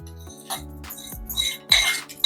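Ingredients being dropped into a steel mixer-grinder jar in a home kitchen, a few short clinks and knocks at irregular moments, close and moderately loud with quiet gaps between.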